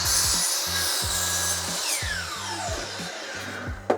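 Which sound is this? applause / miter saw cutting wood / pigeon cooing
miter saw cutting wood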